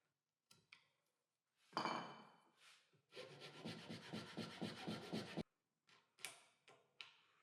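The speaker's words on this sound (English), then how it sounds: "I'll use sandpaper to flatten the surfaces and achieve a better finish on the wood." Sandpaper rubbed by hand across a wooden T-track flip stop and fence, giving a steady rasping scrub of rhythmic back-and-forth strokes up close for a few seconds, between shorter scraping bursts.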